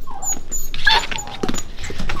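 Several 6.5-week-old Aussie Poo puppies whimper and yip close by indoors, overlapping high cries and short squeaks in an uneven, continuous stream.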